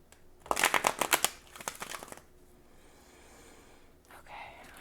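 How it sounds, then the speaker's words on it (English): Fairy Tale Oracle cards being shuffled close by, a quick burst of crisp riffling snaps followed by softer scattered card rustles, then a faint breathy pause. "I'm just going to shuffle."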